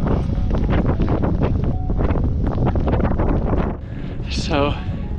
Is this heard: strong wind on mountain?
yes